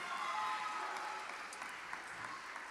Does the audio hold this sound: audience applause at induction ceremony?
yes